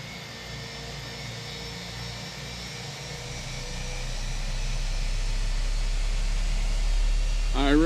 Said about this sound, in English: We'll let these engines get started up.